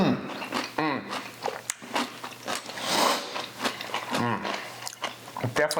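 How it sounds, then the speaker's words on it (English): Two men bite into crunchy pickles, with sharp close crunches and chewing bursts scattered irregularly amid their talking and laughter. "Definitely people want to hear us chewing."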